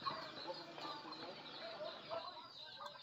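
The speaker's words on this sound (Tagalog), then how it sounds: "Ang mga chickens ni mama." Farmyard chickens clucking at a rural province farmhouse, soft and somewhat distant, with scattered short clucks over a faint background murmur.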